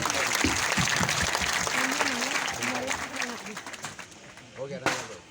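A crowd claps in a dense patter that gradually thins out, while a voice speaks over the applause.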